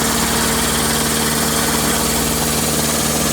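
A Dnipro-M air compressor with a 100-litre receiver runs steadily and loudly up close, a constant motor hum with a fast rhythmic pulsing throughout and no voices.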